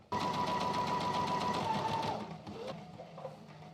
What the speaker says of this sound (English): sew around the edges of the pocket bags to get them sewn together